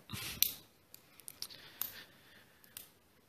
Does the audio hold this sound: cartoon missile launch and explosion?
no